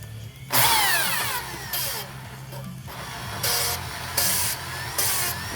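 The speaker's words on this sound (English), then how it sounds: "Got the drill over here" An electric drill whirs in repeated bursts while polishing engine valves with compound, starting and stopping several times with a high, rising-and-falling motor whine close by.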